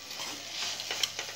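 Grated mango sautéing in a pan, giving a short, faint soft sizzle with light stirring scrapes and one brief clink.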